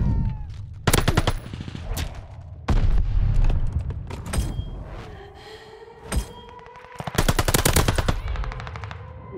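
Gunfire at a hardpoint in a multiplayer shooter game: loud, near bursts of automatic machine-gun fire with single shots and booms in between, rapid and repeated throughout.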